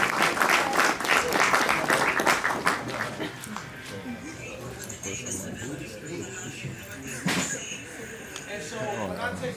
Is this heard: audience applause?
yes